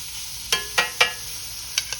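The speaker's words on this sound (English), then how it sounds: "Now we're gonna go over to the grill pan here and we just grill these shrimp off" Shrimp cooking on a hot grill pan give a steady soft sizzle, broken by a few crisp clicks and taps as they are moved around. Quiet and close, with no talking.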